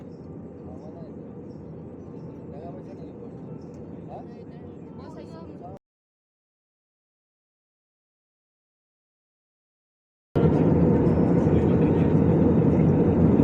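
Steady low roar of a Vistara airliner cabin in flight through clouds with turbulence, cutting to silence for a few seconds before returning louder.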